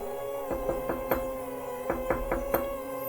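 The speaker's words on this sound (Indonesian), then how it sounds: "Suara ketukan pintu." Knocking on a door at night in a house, a few sharp raps in two short bursts with a pause between, fairly close and without any voices.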